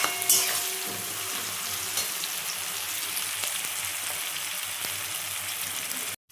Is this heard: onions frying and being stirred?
yes